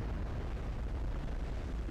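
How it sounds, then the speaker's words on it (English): A big explosion in the video game Resident Evil 5 during the final battle with Wesker, a sustained loud roaring blast with rumbling low end filling the whole stretch. "Oh, wow. It's a big explosion."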